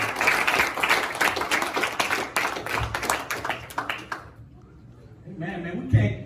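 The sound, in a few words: congregation clapping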